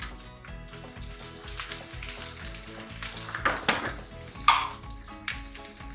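Curry powder mixture frying and sizzling steadily in a pan while being stirred, with occasional louder scrapes and clinks of the utensil against the pan.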